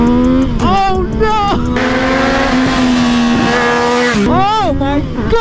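A motorcycle engine revs hard and loud up close, climbing and dropping in several sharp throttle blips with a sustained high-revving stretch in between, gritty and full of grunt.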